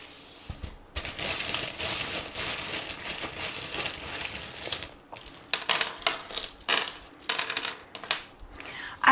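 Small metal tarot charms are dropped and tumble onto a table, a close, bright clattering jingle in several bursts with short pauses between them and no talk.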